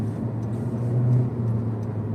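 2022 Honda Civic 1.5L RS in sport mode, its engine a steady, loud, droning hum inside the cabin as the car accelerates, with a slight swell in the middle and no talking.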